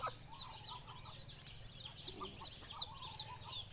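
Chicken chicks kept alongside ducklings give a run of high, repeated peeping calls with some lower clucking beneath, a quiet, steady chorus with no talk.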